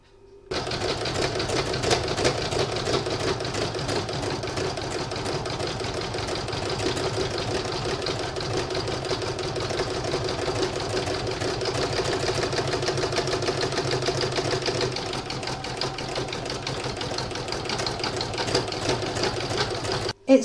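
An embroidery sewing machine runs steadily while stitching a satin stitch edging, a fast continuous needle chatter with an even hum throughout, close and alone.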